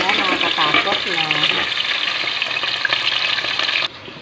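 Belly salmon frying in a pan gives a loud, steady sizzle with scattered pops. A voice talks over the first half, and the sound cuts off abruptly at the end.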